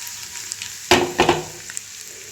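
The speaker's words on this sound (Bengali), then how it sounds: "আমার এবার রসুনগুলো প্রায় ভাজা হয়ে এসছে।" Quiet background hiss, then two short bursts of sizzling and stirring in a pan, like garlic frying in hot oil.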